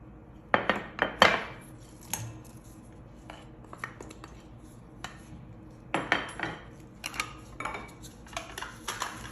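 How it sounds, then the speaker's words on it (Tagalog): Spicy ingredients being mixed in a dish, with a utensil clinking and scraping against the bowl in irregular clusters of sharp taps separated by quieter stirring. "Ngayon, imimix ko na din yung mga spicy niya."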